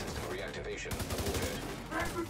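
Rapid gunfire from The Division 2 during a Dark Hours raid, a dense burst of shots in the middle of the clip under steady game noise and team voice chat.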